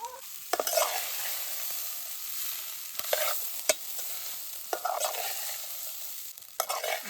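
Cooked rice is stirred into spice masala in a pot over a campfire, with a ladle scraping and thudding against the metal in a repeated rhythm under a steady, close sizzle.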